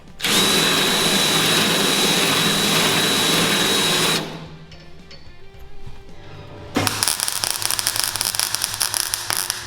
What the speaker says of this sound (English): just done a couple of plug welds there